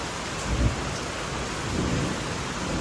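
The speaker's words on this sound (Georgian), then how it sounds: "აი, ცაში გუგუნებს." Thunder rolls low and deep through steady rainfall, with two distinct rumbles swelling and fading over the constant hiss of rain.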